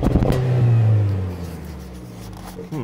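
A midsize pickup truck's engine revs up to about 4,000 RPM in one loud, rising burst near the start, then the note falls back and holds at a steadier drone.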